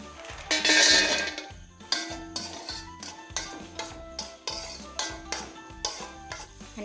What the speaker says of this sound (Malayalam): 1 ടീസ്പൂൺ നെയ്യ് ചൂടാക്കിയിട്ട് നമുക്ക് അണ്ടിപ്പരിപ്പും മുന്തിരിയും വറുത്തെടുക്കണം.